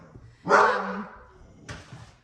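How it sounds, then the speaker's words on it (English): A single loud dog bark rings out nearby, followed a moment later by a shorter, fainter second bark. "Sorry, my dog's barking."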